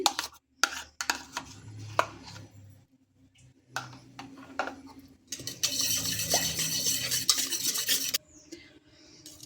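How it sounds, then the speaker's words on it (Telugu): Butter and eggs beaten together in a bowl for cake batter, a close scraping and whisking stir in uneven bursts that grows into continuous, busier mixing before stopping. "ఇప్పుడు దీన్ని కూడా బాగా బీట్ చేసుకుందాం దీంట్లో వేసుకుని"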